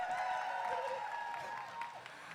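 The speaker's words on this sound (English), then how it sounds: "everyone in the crowd, quick round of applause for you all" Crowd applause at a roller derby game between England and Wales, a steady mass of clapping and some cheering that holds throughout and fades slightly toward the end, with faint voices mixed in.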